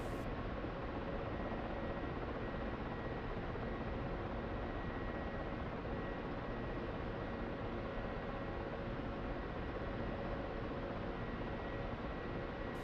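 A Ka-50 helicopter flies in the DCS combat simulator, its rotors and turbines making an unbroken, even broadband drone that holds steady from start to finish.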